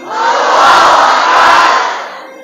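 A large group of junior high students at an Islamic school event shouts takbir together in one loud, sustained collective cry that swells and fades over about two seconds.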